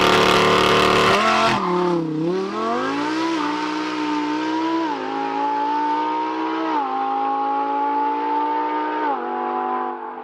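A V10 car engine revs loudly and close, holding a high, sustained wail whose pitch climbs and dips through several throttle changes after a brief different burst at the start.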